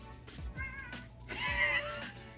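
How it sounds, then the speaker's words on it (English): A cat meows on command, giving a couple of short, fairly faint meows with a longer, clearer one near the end in a quiet room. "Ozzy, say meow!"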